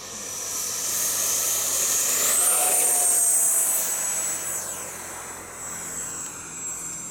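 A Freewing FNRC 70mm F-104 radio-controlled jet takes off from an airfield, its ducted-fan whine rising into a loud, hissing roar and then fading with distance.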